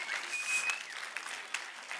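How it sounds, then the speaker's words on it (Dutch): A lecture hall audience at a children's university session applauds steadily, a continuous wash of clapping at moderate distance with a few louder individual claps. "Dus inderdaad een heel groot applaus voor Andreas."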